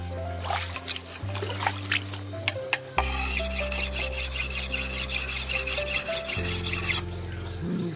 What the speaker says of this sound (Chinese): 开始打磨自己的柴刀。